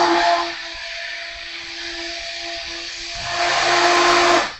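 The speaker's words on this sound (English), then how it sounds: "I'm going to run the stick blender through it" A stick blender whirs as it mixes banana puree into soap-making oils: a steady motor drone at close range that eases off midway, then surges louder again before cutting off.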